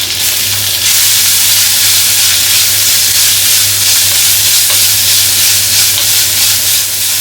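Crushed ginger and garlic frying with shallots in hot oil while a kappa biriyani is being cooked, a loud, steady sizzle that runs throughout with light stirring, close to the pan and with no voices.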